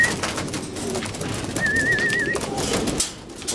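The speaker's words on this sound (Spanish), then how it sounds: "Pues ahí están las palomas." Racing pigeons coo near their loft during adult turf flight season, soft repeated calls mixed with wing and cage movement, close and moderately loud.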